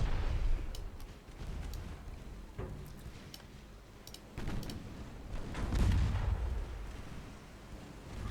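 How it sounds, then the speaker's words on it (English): Warship guns in a naval video game fire high explosive shells, heavy low booms and rumbling blasts repeating irregularly over several seconds, with faint clicks from the game interface and no speech. "Try some AP shells, please. You've been firing high explosive the whole time."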